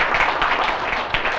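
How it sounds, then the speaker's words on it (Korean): An audience at a Korean business presentation gives a brief burst of clapping. The applause is moderate and textured and cuts off quickly. "저분을 위해서 큰 박수 쳐주시기 바랍니다"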